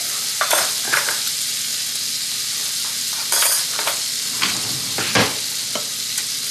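A steak sears in a hot cast iron pan with a loud, continuous crackling sizzle. It is close and steady, with irregular sharp pops throughout and no voices.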